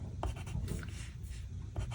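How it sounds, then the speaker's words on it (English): Watercolor pencil pressed hard onto paper while coloring, a dense scratchy scraping that runs continuously with slight strokes, close and steady. "So I'm pushing pretty hard with my pencils"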